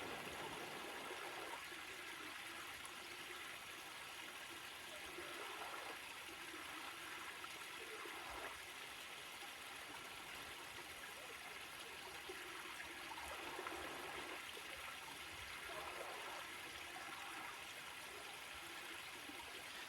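Steady flowing water babbles and rushes continuously, a constant close-up wash of creek noise with no other sounds, at Pickle Creek Natural Area.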